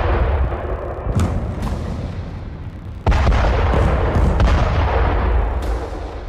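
Bombardment explosions in Khan Younis in southern Gaza: several heavy booms go off at uneven intervals, each with a sharp crack and a long rumbling tail over a constant low roar.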